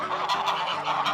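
Geese honking in a backyard flock kept in a forested, fenced property in Hinsdale, New Hampshire, with steady overlapping calls close by and no talk.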